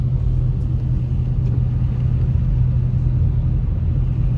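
On a snowy Big Bear mountain road, a steady, loud, low rumble of car engines and tires continues without a break, heard from nearby inside a vehicle.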